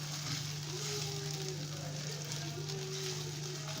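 Green peas going into a pan of hot oil for matar pulao give a steady, close, continuous sizzle and crackle of frying that holds the whole way with no pauses. Nobody speaks.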